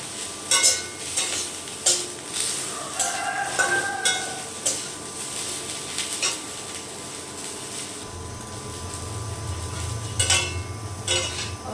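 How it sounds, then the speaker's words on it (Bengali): Cauliflower frying with turmeric in a pan, a continuous sizzle punctuated by rhythmic scraping of a spatula, followed by a deeper, fuller frying hiss in the final seconds. "কপিটাকে সুন্দর করে ভেজে নেব একটু হলুদ দিয়ে দিলাম"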